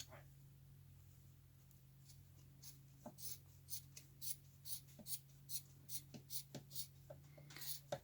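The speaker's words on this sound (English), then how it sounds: "All right, we want to trim this." Scissors snipping through damp loofah mitt fabric, a run of short crisp cuts in an uneven rhythm, close and fairly quiet, growing busier toward the end.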